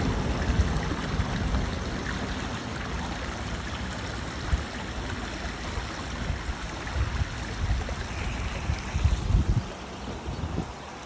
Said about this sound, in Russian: Здесь ручей, протекает такой вот мостик